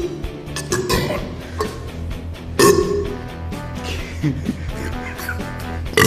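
Burping-contest belching, a series of loud, rough eructations with uneven bursts and a strong peak midway, close up, with some background noise and possible faint voices.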